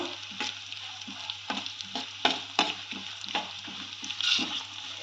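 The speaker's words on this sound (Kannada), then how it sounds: "ನೋಡಿ ಇದು ಇವಾಗ ಫ್ರೈ ಆಗ್ತಾ ಇದೆ" Cumin seeds frying in oil in a pan for jeera rice, a steady close sizzle with soft scraping stirs at irregular intervals and no voices over it.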